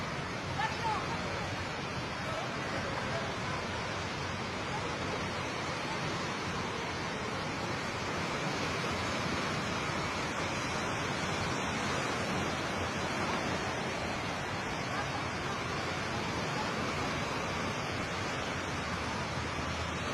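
Steady roar of sea waves washing back in after the water receded following a magnitude 7.6 earthquake, a broad continuous wash of surf without distinct breaks, fairly loud and close.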